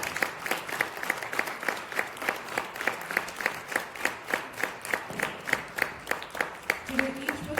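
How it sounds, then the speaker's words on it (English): Audience applause for five speakers taking the stage at a Bhagavad Gita event in Frankfurt, a dense rhythmic clapping that falls into a regular, almost unison beat, with a faint voice briefly audible near the end. "Audience, don't be shy to give them an applause."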